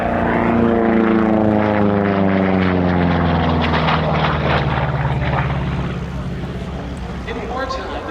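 P-47 Thunderbolt propeller fighter passing overhead at an airshow, a loud droning radial engine whose pitch slides downward as it goes by and gradually fades.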